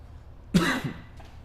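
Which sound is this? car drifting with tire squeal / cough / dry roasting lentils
cough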